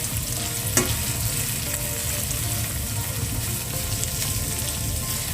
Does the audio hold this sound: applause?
no